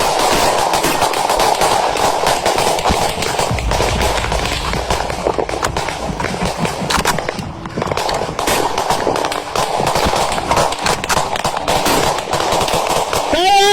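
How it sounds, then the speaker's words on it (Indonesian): Combat gunfire crackles in dense, rapid bursts that keep going without a break, loud and close, with shouting voices mixed in. "Tampak dalam rekaman aksi saling tembak tak terhindarkan."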